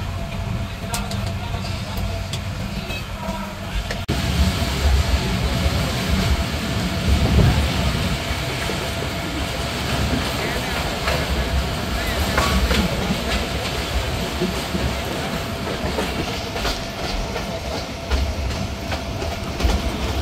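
Steady rumble and rhythmic clatter of the Titumir Express passenger train rolling along the rails after leaving Jamalganj station, Bangladesh, continuous and fairly loud throughout with a faint hiss.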